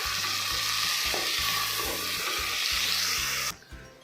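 Sliced onions, green chillies, coriander and mint fry and get stirred in a pan for chicken biryani, a loud continuous sizzle with rhythmic scraping strokes that cuts off sharply near the end.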